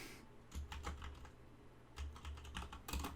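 Computer keyboard typing in quick, uneven bursts of keystrokes with short pauses between, close and fairly quiet, with no voices.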